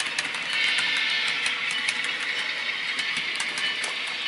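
A model train pulls out of a layout yard, giving a steady, fairly loud mechanical whir and hiss with light rhythmic clicking, running continuously with no talking.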